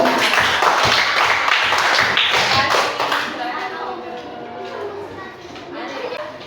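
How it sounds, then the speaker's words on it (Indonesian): A classroom applauds a student group, with loud, close clapping and tapping that mixes with chatter for about three seconds before fading into quieter murmuring voices. "Tepuk tangan untuk kelompok 3"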